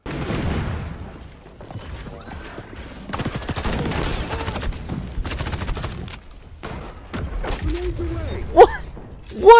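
Video game gunfire in XDefiant, dense bursts of rapid shots and impacts through most of the stretch with short lulls, closing with a few sharper loud hits.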